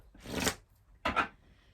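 Oracle cards being shuffled by hand, two quick riffling bursts close up with a short pause between, no talking.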